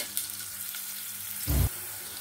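Onions frying in a pan for a Punjabi dal tarka: a steady close sizzle throughout, with one short low thump from stirring near the end.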